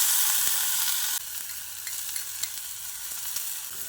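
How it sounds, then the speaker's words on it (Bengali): Soaked gobindobhog rice fries lightly in ghee over a medium flame, a close hissing sizzle that drops in intensity after about a second, with scattered stirring scrapes and clicks, no voices. "এই গোবিন্দভোগ চালটাকে আমি ঘিয়েতে হালকা করে ভেজে নিচ্ছি।"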